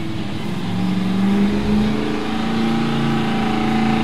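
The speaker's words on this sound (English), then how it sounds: "Truck gets off the line." A fire truck pulls off the starting line at a New York State firefighting championship, its engine roaring loud and steady and rising in pitch as it accelerates away.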